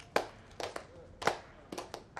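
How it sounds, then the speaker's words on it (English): A few sharp hand claps from a man, spaced irregularly in short bursts, close and distinct against a quiet room. "I'm clapping,"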